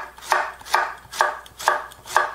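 Aged kimchi being cut with a knife on a board, five crisp, evenly spaced chops in a steady rhythm, close and clear, with no talk.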